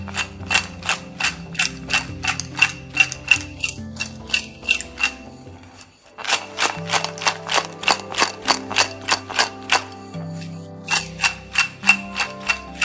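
Mango pieces coated with salt and chili powder are shaken in a bowl, giving a steady, close series of sharp rhythmic taps and rattles with a brief pause midway.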